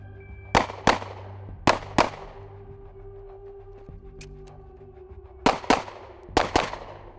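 Shots from a 2011 pistol fired in quick pairs and triples, each sharp crack ringing out with a short decay, fairly close, with quiet gaps between strings and no talk.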